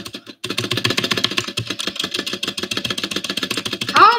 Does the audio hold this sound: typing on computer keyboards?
yes